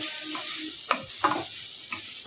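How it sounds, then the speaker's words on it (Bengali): Rice frying in a pan over a low gas flame, a soft continuous sizzle broken by a few scraping stirs of a spoon, close and quiet with no talking. "এই সময় গ্যাসের ফ্লেমটা একদম লো করে রেখে একটু ভাজবো চালটা।"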